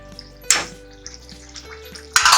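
Leftover water is poured into a pot of potato curry, two brief splashing pours about two seconds apart with light metallic clinks of cookware in between, close and fairly loud.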